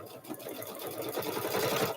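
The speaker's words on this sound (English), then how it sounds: "That way you can just sew it with the sewing machine on the lining." Sewing machine stitching the quilted lining of a handbag, a fast steady mechanical whirring and needle chatter running continuously at close range, alone without speech.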